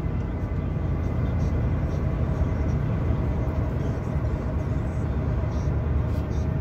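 A steady, deep V8 truck engine rumble through an 8-inch glass pack exhaust drones without a break, low and throaty, with no other sounds standing out.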